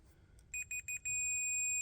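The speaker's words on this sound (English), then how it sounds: "when you put your probes together you should hear a beep" A Fluke multimeter in continuity-test mode gives a few short electronic beeps, then one sustained steady tone as the probe leads touch, heard close and clean with no talking.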